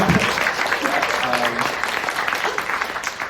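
An audience at a Figma design talk in Waterloo claps to welcome back guest Jenny Wen; sustained, moderately loud crowd applause with a faint voice briefly audible underneath.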